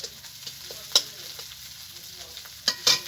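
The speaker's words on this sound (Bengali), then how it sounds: "মশলাটা কষানো হয়ে গেছে, মশলা থেকে তেলও ছেড়ে দিয়েছে" Spice paste with dried red chilli powder fries in oil in a pan as it is stirred, a close sizzle broken by sharp metallic scrapes and clinks of the spoon, for a ridge gourd and poppy seed dish.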